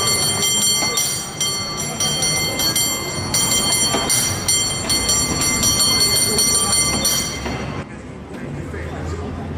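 A historic tram runs through the steep streets of a city's upper town, a continuous rumbling, clattering rail noise with metallic ringing overtones that stays loud and steady before easing off near the end.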